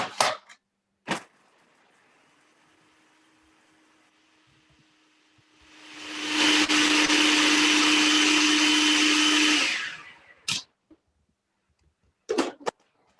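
A countertop blender roars loudly for several seconds, chopping raw vegan stuffing ingredients into fine crumbles, with a low motor hum beforehand and a few clicks and knocks around it.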